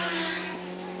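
A Brabham historic racing car out on track during the Glover Trophy race, heard as a steady droning engine note that lasts about a second, fairly strong and unbroken.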